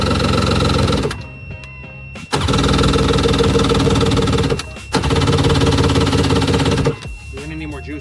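A cheap jet ski engine cranks loudly in repeated whirring, harmonic bursts that cut out and restart several times, up close, with a brief voice heard at the end.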